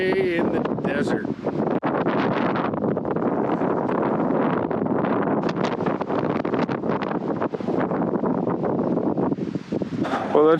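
Heavy desert wind hammers the microphone of a BMW GSA adventure motorcycle on the move, a loud and unbroken rushing roar on a hot, dusty day.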